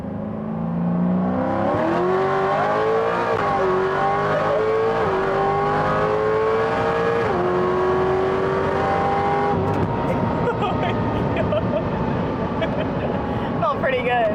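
A GPI-built SS3 Camaro's engine roars at full throttle on a dyno, a loud continuous climbing wail that rises steadily then shifts pitch near the end, with a voice talking faintly underneath.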